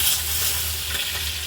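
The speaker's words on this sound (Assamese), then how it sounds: "এতিয়া আকৌ কমন কাৰ্পটো ভাজি" Common carp pieces fry in hot oil with a dense, continuous sizzle and crackle, close and steady throughout with no talking.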